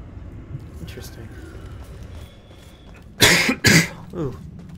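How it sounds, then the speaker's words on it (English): A game character in Murdered: Soul Suspect coughs twice in quick, harsh bursts, loud and close after a stretch of quiet ambient sound. "That was a bad cough."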